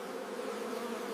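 Honey bees at a hive give a dense, steady buzzing drone, close and unbroken, with no other sounds.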